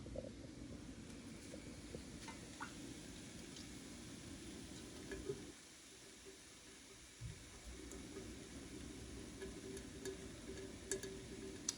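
A spoon stirs a thickened mixture back into a pot of vegan gumbo, soft scraping and gentle simmering bubbles heard close and quiet, with a brief pause midway and no talk.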